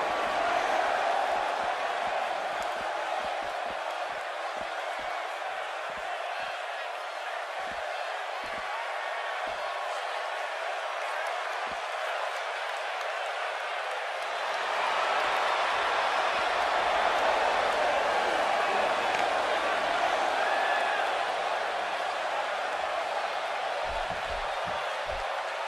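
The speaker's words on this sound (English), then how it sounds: "it sounds to me like the crowd is more than ready for this one" A large arena crowd cheers in the WWE 2K18 wrestling game before a tag team match, a dense continuous roar that swells louder midway, with faint scattered thuds beneath.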